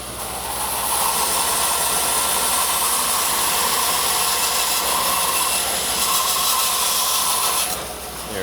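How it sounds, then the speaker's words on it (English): A power tool guided along a slide shaves a sliver of wood from the edge of a wooden inside-out Christmas ornament, giving a steady, loud whirring grind that runs unbroken for several seconds, then cuts off. "All I'm going to do is just take a sliver of wood off the edge right here"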